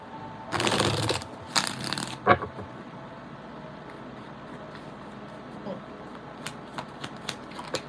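Cards are shuffled in two quick riffling bursts, followed by faint taps and rustles in a quiet room.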